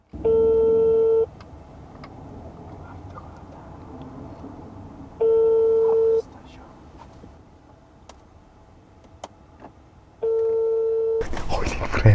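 A phone call rings out over a speakerphone as a repeated ringback tone: three steady beeping bursts, each about a second long and spaced several seconds apart, over low background noise, ending in a louder rush of sound.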